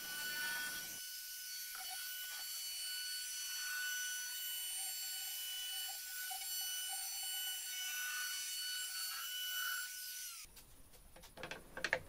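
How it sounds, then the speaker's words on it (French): A table-mounted router with a 45-degree bit trimming a wood cutout, a steady high whine with a thin cutting hiss, close and continuous, then cutting off to quieter handling clicks near the end. "Je viens finaliser cette découpe avec une mèche à 45 degrés,"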